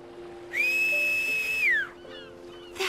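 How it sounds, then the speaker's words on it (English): A single clear, high whistle in the video game World of Final Fantasy holds steady for about a second before sliding downward, followed by fainter tonal chirps and a short burst of noise. "If we ever get separated, you can just whistle to signal for help."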